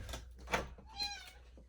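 A house cat gives a short, faint meow in a quiet indoor space, with a soft knock or bump just before it.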